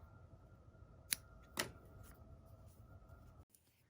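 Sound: scissors cutting crochet yarn

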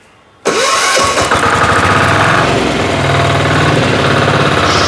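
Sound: walk-behind tractor engine revving

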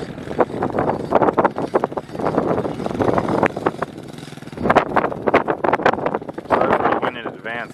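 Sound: wind blowing outdoors on the microphone

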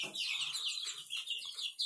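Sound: chickens and rooster clucking

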